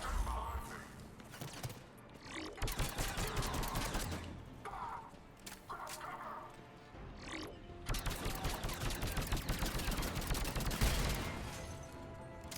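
Gunfire from a hacked enemy weapon in the sci-fi shooter Mass Effect Legendary Edition, dense bursts of rapid shots with crashes and impacts running continuously over loud combat noise.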